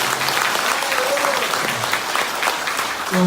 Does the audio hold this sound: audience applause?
yes